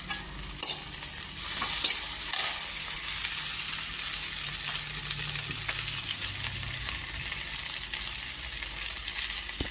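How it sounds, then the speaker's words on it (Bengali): Okra frying in coconut oil in a home kitchen at night: a steady, close hiss of sizzling oil with occasional soft stirring clicks, continuous and without talking. "আর এই যে ভেন্ডি ভাজি বসাইছি নারিকেল তেল দিয়ে।"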